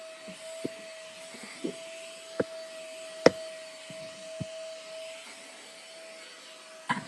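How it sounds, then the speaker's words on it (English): A household vacuum cleaner runs steadily indoors as the floor is cleaned, a constant moderate whine with scattered knocks and bumps against furniture, fairly faint and even throughout. "I'm in here vacuuming"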